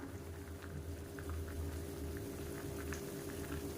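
Egg curry simmers in a pot with a steady bubbling and soft popping, close and low in level, with no voices.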